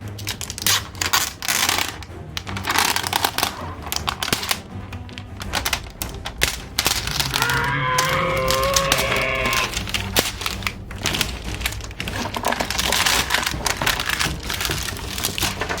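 Crinkly plastic packaging of a Blox Fruits collector bundle being handled and its pull zipper torn open, with continuous rustling, crackling and scraping, fairly close and loud.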